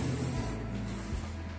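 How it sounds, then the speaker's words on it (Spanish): Cooking spray hisses into a tall bread pan in a continuous, steady spray with brief pulses, close and even, heard alone without talk. "le vamos a poner manteca spray o aceite spray o manteca"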